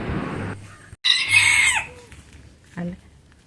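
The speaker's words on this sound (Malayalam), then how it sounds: "നമ്മളെ ശല്യം ചെയ്യുന്ന ഒരു കോഴിയാണിത്" A rooster crows loudly nearby, a long strained call in the middle, with hens clucking and another short call near the end.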